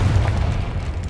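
Confringo blasting spell detonating in the game SpiritVale, a single deep, rumbling boom that fills the short moment with low, loud roar.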